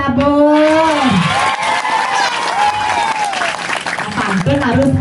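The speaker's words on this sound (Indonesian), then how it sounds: "Tepuk tangannya dong buat penabur." An audience at a comedy performance at Pura Dalem Sidan applauds and cheers, with loud, dense clapping and shouts under an amplified voice that keeps talking throughout.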